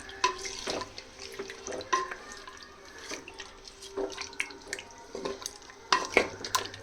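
Mutton curry being stirred in a clay pot, wet squelching and scraping strokes in an uneven rhythm with occasional clinks, close and moderately loud.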